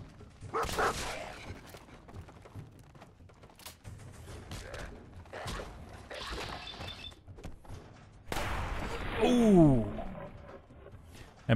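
Dogmeat, the dog companion in Fallout 4, barks and yelps amid game sounds, with a louder cluster of whining, pitch-sliding barks near the end.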